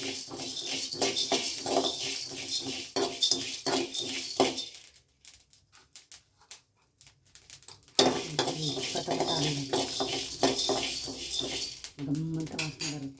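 Fenugreek, black pepper and cumin fry in a pan for a village-style greens curry, with bursts of stirring, sizzling and utensil scraping, a quiet pause midway, and faint talk.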